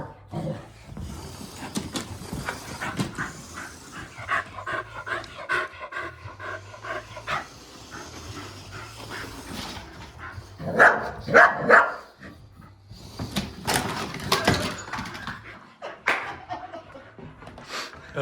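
A female dog pants heavily and steadily close by, breaking into a few sharp barks midway, with faint background noise throughout.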